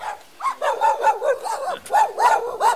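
Dogs barking in a rapid run of sharp, repeated barks, about ten in quick succession, loud and close with a brief pause midway and no talk over them.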